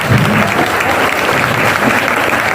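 Loud, steady audience applause fills the whole stretch at a grand welcome ceremony for para cricketer Aamir Hussain Lone, dense clapping from a crowd with no talk standing out above it.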